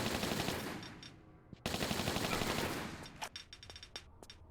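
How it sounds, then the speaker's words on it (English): Rapid Uzi fire in the Tomb Raider 3 Aldwych level: long loud automatic bursts, then a string of short sharp volleys with brief gaps between them. "I think you can use the Uzis on him"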